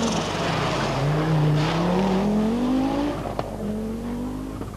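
A powerful Lancia rally car at the 1983 Circuit of Ireland Rally, its loud engine note climbing steadily through a gear as it accelerates, then dropping and rising again after a shift, close and continuous with no talk.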